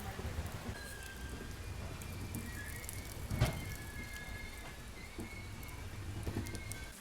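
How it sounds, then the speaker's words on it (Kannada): Steady monsoon rain heard from inside a moving non-AC train near Barkur, a continuous wash of drops and rushing noise with one brief louder burst partway through and no voices. "ಬಾರ್ಕೂರಿಗೆ ಎಂಟ್ರ್ ಆಗೋ ಅಷ್ಟೊತ್ತಿಗೆ ಮಳೆ ಮತ್ತೆ ಸ್ಟಾರ್ಟ್ ಆಯ್ತು ನೋಡ್ರಿ"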